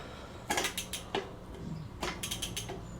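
Shimano GRX derailleur on a gravel bike shifting through gears, with a few quick mechanical clicks and ratcheting clatters in bursts, close and fairly loud, with no voices.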